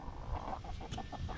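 Chickens clucking in a backyard garden in August, a run of soft, rapid clucks close by over low steady background noise.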